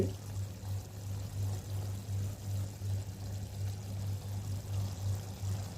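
Tamarind water poured into a simmering dried-fish curry with drumstick and raw mango, a steady close liquid pour with a low continuous gurgle running throughout.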